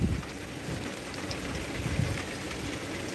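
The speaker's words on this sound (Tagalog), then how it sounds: "Lumalakas na yung ulan." Heavy rain from Hurricane Milton in Florida pours in a dense, steady hiss, with low rumbling underneath and no voices.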